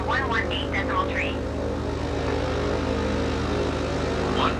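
A BN-2 Islander propeller aircraft taxis in Microsoft Flight Simulator with a steady engine drone and layered low hum throughout, while faint voices talk briefly over it.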